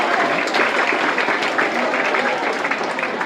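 Students at a school function break into a burst of applause, many hands clapping together in a dense, steady patter that holds at an even level for a few seconds.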